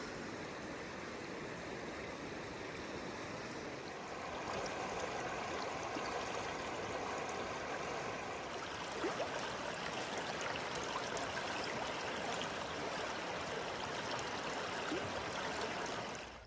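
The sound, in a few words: river water flowing over rocks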